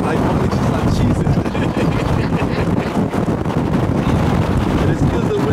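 Strong wind buffets the microphone outdoors on safari in Pilanesberg National Park, South Africa, a loud continuous rushing roar that fills the whole clip.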